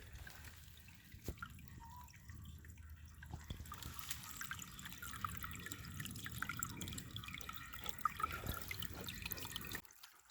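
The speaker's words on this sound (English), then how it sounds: "Water's definitely dribbling into there." Spring water dribbles into a glass in a steady, close trickle of fine drips that runs for about ten seconds before cutting off abruptly.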